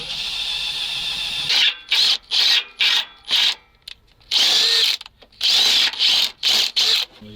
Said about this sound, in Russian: Просверлена дырка.